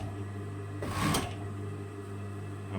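A sewing machine with a double stitch needle hemming a T-shirt, a short mechanical whirr of stitching that rises for about half a second over a steady motor hum, close and fairly quiet.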